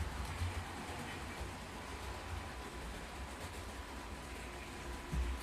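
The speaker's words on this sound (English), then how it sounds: "I'm gonna bring the DMU into the platform next to it." A DMU train pulling into a platform, heard as a steady, fairly quiet low rumble with a slight swell at the start and end, and no voices.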